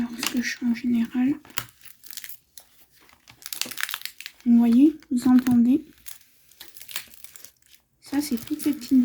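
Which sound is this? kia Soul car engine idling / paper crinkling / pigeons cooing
paper crinkling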